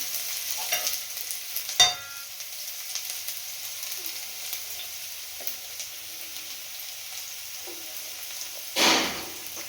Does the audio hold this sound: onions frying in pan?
yes